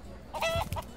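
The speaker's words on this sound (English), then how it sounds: "A lot of chickens running around might be a distraction." A chicken in the video game Minecraft Story Mode gives a short pair of clucks, close and clear, over faint background sound.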